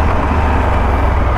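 A Triumph Tiger 1200 motorcycle rides a gravel road, giving a steady, close engine rumble mixed with constant broadband road and wind noise, continuous throughout without gaps.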